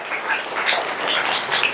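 A church congregation claps for Jesus during a sermon, with dense, steady applause filling the short stretch at even loudness and no voices.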